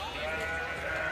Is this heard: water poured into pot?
no